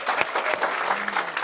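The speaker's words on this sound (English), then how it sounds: "give a big round of applause for Joe too." Crowd at a small gathering giving a big round of applause, dense continuous clapping throughout, fairly loud and close, with a faint voice briefly audible underneath.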